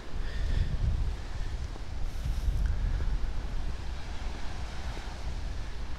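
Strong wind sweeps over the bay at Heda's sandspit on Cape Mihama in West Izu, with small choppy waves. There is a steady low rumble of wind buffeting the microphone and a faint wash of water, and no one speaks.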